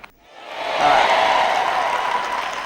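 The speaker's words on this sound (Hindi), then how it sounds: "मैं इन 12 या 15 लोगों के लिए खुश हूं जो इस प्रवचन के लिए तालियां बजा रहे हैं।" An audience applauds a sermon, a small group of about a dozen people clapping that swells in after a quiet start and holds steady at moderate volume.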